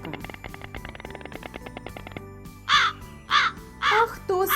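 Crow cawing in four harsh calls over a plucked background melody, following a stretch of music alone; the calls are loud and close.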